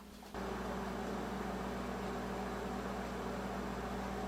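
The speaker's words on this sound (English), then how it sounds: "Now we're going to put them in the microwave and watch them expand." A steady mechanical hum starts abruptly and continues evenly as a microwave oven runs with marshmallows inside, with a constant low drone and no voices.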